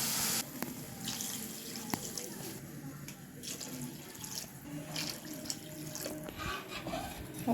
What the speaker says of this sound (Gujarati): તો આપણે એમાં ચાર ગ્લાસ પાણી રેડી દઈશું